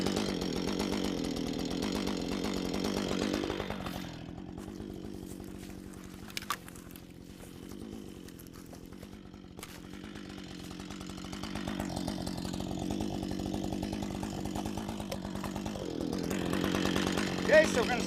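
A chainsaw cutting into a tree, the engine droning at a steady high rev that drops to a lower idle midway and then revs back up. A voice talks over it in places.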